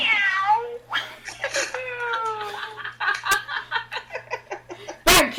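A cat meowing in a few drawn-out, rising and falling cries close by, followed by shorter chirpy sounds and a loud burst at the end; a voice may be imitating the cat.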